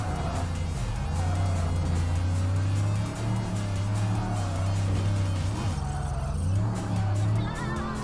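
A Nissan Z in Tokyo Xtreme Racer Drift 2 holds a steady, loud engine drone that dips and climbs with gear changes, with brief tire squeal and someone speaking over it.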